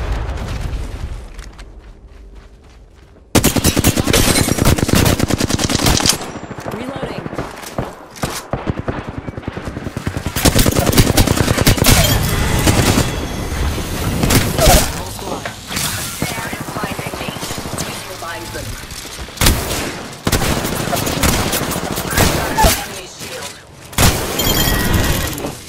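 Valkyrie's missile launch and rapid gunfire in the video game Apex Legends: loud bursts of shots, explosions and crackling impacts come in dense clusters after a quiet opening, with brief voice lines mixed in.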